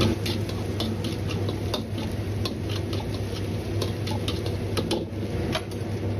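About ten grams of doubanjiang bean paste stir-fried in a wok with scallion, ginger and garlic, a continuous sizzle broken by rapid, regular scraping taps of a spatula against the pan, close and alone.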